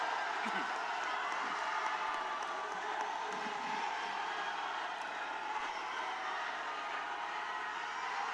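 A large crowd claps and cheers at a Democratic Party joint rally in Incheon, a dense, continuous roar heard at a distance and fairly faint, with voices mixed in.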